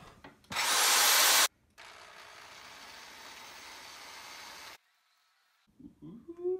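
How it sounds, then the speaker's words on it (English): A power drill bores into the tremolo cavity of an electric guitar body, starting with a loud, high whine for about a second, then a steadier, quieter grinding run, close up, followed by brief faint handling noises. "Okay, I'm getting the drill."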